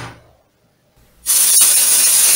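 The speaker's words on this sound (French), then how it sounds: "Je recouvre ensuite l'intérieur du moule d'une légère couche de démoulant en spray." Mould release agent sprayed from an aerosol can into a two-part polyurethane resin mould: after a short near-silence, a loud, steady close-up hiss of spray starts abruptly and continues to the end.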